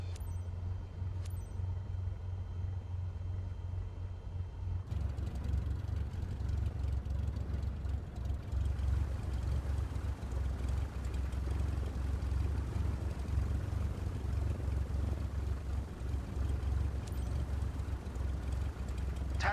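An aircraft taxiing in Microsoft Flight Simulator 2024 produces a steady, low engine drone that runs without a break and strengthens after a few seconds, with no talk.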